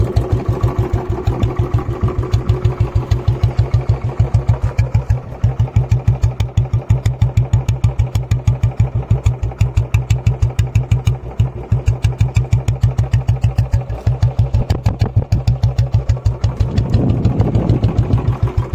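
A second-hand black Bullet motorcycle starts and settles into a steady, loud thumping idle, its even beat close and continuous, with a slight rise in revs near the end and no talking.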